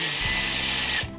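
Power drill driving a screw into the leg of a hydroponic bench, a loud close whirring burst of about a second that stops abruptly.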